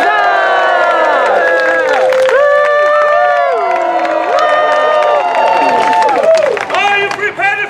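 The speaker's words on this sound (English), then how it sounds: "This is where you hoot, holler, and applaud for no apparent reason." A crowd at a Renaissance festival opening court hoots, hollers and applauds. Cheers and shouts rise and fall under loud tonal, musical-sounding voices, with scattered clapping building in the final seconds.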